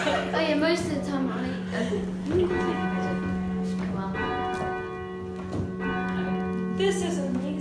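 The tenor bell in the tower of St Mary's Parish Church, Elham, England, rings out in repeated loud, resonant strikes with long humming overtones, heard close inside the bell tower while people talk and chuckle nearby.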